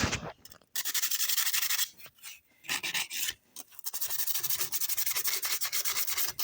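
Sandpaper scrubbing back and forth over a surface in quick, rhythmic strokes, close up with a few short breaks.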